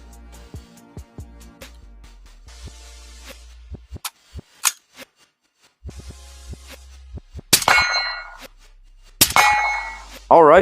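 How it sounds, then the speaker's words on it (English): A lightweight AR-15 rifle fires with a suppressor fitted, one sharp muffled report close by, followed by metallic clangs and clicks of handling the gun. "gun functioned like it should that time with the suppressor on it"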